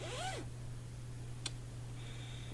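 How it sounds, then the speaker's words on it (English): Zipper on a knitting kit bag with small contrasting red zippers, one fast sweeping pull heard up close at the start, then a faint brief click and a thin high tone in a quiet room. "We've got lovely little contrasting red zippers."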